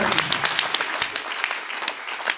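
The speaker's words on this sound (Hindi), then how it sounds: "जोरदार तालियां" Audience applause at a gathering, with brisk clapping from a crowd and some sharper individual claps standing out, fairly loud and continuous through the short burst.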